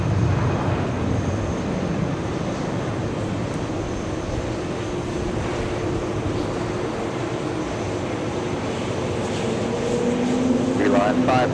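A jet airliner takes off at JFK airport, producing a steady, broad, low roar that holds for the whole stretch, with faint murmuring voices underneath.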